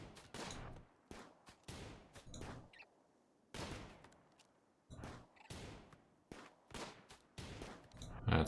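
Colonists firing guns in Rimworld: Biotech, heard as repeated clusters of sharp cracks in ragged volleys with brief gaps between them, all fairly faint.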